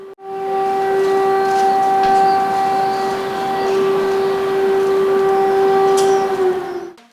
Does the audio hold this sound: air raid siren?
yes